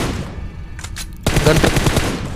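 Rapid automatic gunfire from an M416 rifle in PUBG Mobile with the fire button stuck, a short burst, a brief gap, then a loud sustained stream of shots.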